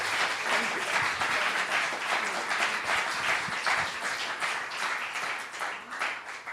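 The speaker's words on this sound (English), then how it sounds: "please give Professor Mike Moreland a big round of applause" An audience at a lecture event gives sustained applause, dense clapping from many hands that holds steady and loud before tapering slightly.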